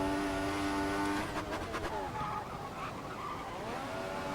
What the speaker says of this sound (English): Lots of wheel squeaking, and I lose traction in my car